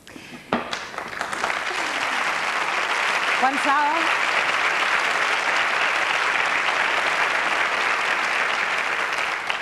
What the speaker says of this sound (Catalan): una xifra que es mereixia l'aplaudiment, per això fèiem aquesta pausa